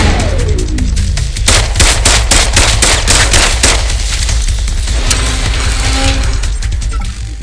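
Automatic turret gunfire in the game System Shock, a dense run of loud rapid bursts for several seconds that thins out toward the end with scattered shots and faint electronic tones, no voices.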